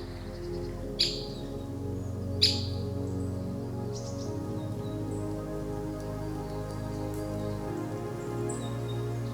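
Birds chirp and call over a steady patter of rain in a wet forest in Sardinia, Italy, with a couple of sharp, close bird notes standing out early on.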